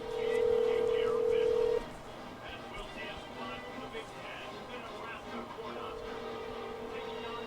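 A single steady telephone dialing tone sounds for about two seconds, then gives way to a droning background with faint voices and noise.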